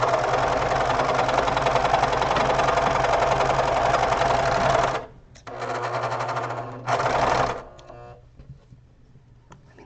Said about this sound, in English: you need a lot of practice with the serger because there's so many variables